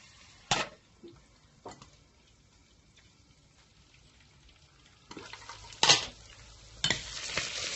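Onions frying in a pot for Somali bariis rice, stirred with a few loud scrapes and clanks of a utensil against the pot over a soft sizzle, the sizzling growing brighter near the end.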